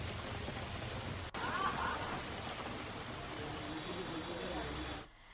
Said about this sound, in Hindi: भीलवाड़ा जिले में बीती रात से रिमझिम बारिश का सिलसिला लगातार जारी है।